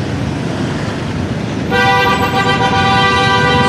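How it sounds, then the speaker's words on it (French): Vehicle horns honk in busy Hanoi street traffic at night, a loud layered blast of tooting horns suddenly rising over the steady roar of motorbikes and cars. "Ça klaxonne, bim bim bim bim bim."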